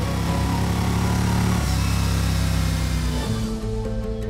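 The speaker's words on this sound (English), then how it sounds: "That iconic air-cooled V-twin design." A 2018 Yamaha Star Venture air-cooled V-twin motorcycle engine runs steadily and loud, with a deep droning tone that shifts pitch slightly partway through, heard alone without talk.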